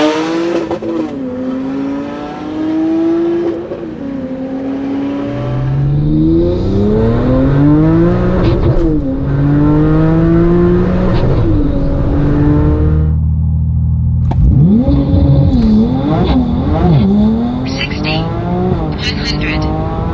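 A tuned Porsche 991.2 Turbo S making around 1060 bhp runs hard, its engine repeatedly revving up and dropping back in loud rising sweeps, with a rough idle and crackle between pulls, close and dominant throughout.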